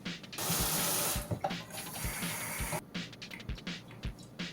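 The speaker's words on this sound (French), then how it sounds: "Remplissez-les d'un petit fond d'eau." Tap water runs into a bowl, a loud steady rush that stops and restarts with a few short bursts and clinks, with no talk, while preparing homemade pizza dough.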